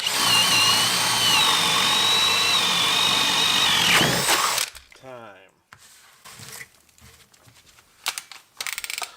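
A cordless DeWalt 9Ah FlexVolt or Hilti 8Ah drill set to speed 3 bores into wood with a loud, steady motor whine for about four and a half seconds, then stops abruptly, followed by clattering handling noises and brief talk.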